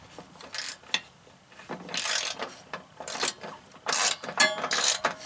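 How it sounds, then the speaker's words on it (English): Ratchet wrench tightening the deck belt on an MTD LT5 riding mower with a 42-inch deck, giving repeated bursts of close metallic clicking in uneven strokes, with no talk. "I recommend using the ratchet method like I am now."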